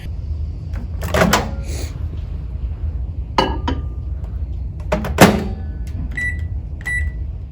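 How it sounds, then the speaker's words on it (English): A microwave door thunks shut with a couple of clunks, then a few beeps sound as the oven is started to cook an omelet in a mug, heard close in a quiet kitchen. "Now we're going to pop this into the microwave for 90 seconds."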